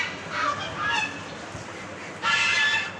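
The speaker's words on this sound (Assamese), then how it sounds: "এইফালে ইমান হাঁহ আৰু পাৰ আছে" Ducks at a temple on a rainy day give a few nasal honking quacks at mid distance, the last burst louder and fuller, over a soft background hiss.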